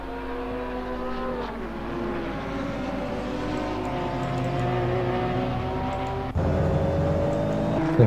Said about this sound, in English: as we drive on board with this monster Nissan